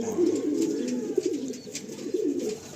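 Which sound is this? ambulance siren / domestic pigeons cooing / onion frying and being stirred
domestic pigeons cooing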